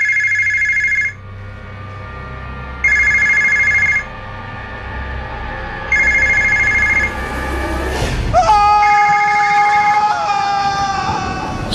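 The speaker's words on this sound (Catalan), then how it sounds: "Prou telèfon! Prou!" A telephone bell rings in three loud, evenly spaced bursts of about a second each, then a different brighter tone and muddled noise take over near the end, during a Catalan TV comedy sketch.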